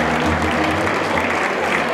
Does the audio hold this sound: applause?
yes